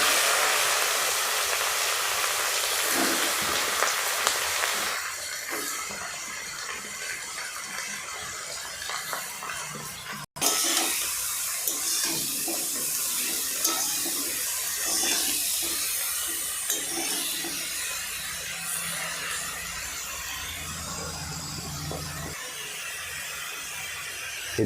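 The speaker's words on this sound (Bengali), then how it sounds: "এবার ছাতুগুলোকে খুব ভালো করে ভেজে নিতে হবে।" Mushrooms frying in hot mustard oil in a wok, a loud broad hiss that eases into a softer, wetter bubbling as water is released, with no talk.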